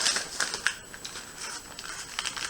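Soft, irregular crinkling and rustling of thin plastic, continuous and close, with no voices.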